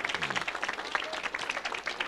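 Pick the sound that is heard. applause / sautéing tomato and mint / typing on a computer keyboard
applause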